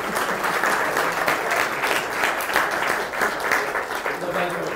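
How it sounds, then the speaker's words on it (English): Audience applause for Brad Templeton after his talk on robocars, a dense, sustained patter of many hands clapping at even strength throughout, with faint crowd voices mixed in. "let's give one round of applause to Brad for coming"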